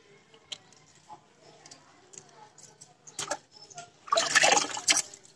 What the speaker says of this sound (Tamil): முதல்ல பூ சுத்தமாக கழுவிடுங்க